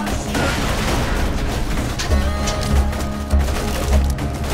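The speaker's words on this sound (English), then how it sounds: "Oh, grenade!" A grenade explosion in the Borderlands 2 video game, heard as booming blasts mixed into dense, continuous gunfire and combat noise that stays loud throughout.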